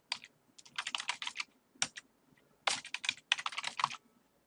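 Keys clatter on a computer keyboard as a password is typed, several quick close bursts of clicking separated by short pauses, with no talking.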